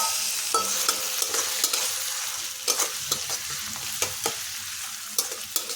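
Grated onion frying in a pan, a steady loud sizzle with repeated scraping stirs of a spatula tapping and clacking over it, no voices.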